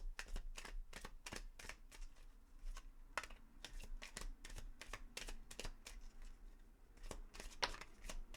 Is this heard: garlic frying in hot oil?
no